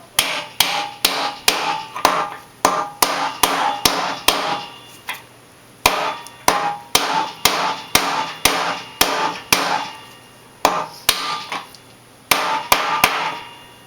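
A new spindle bearing is driven into a Hustler Big Dog mower spindle housing with a driver and hammer: over twenty sharp, close metallic blows in a steady rhythm with brief pauses, and no talk.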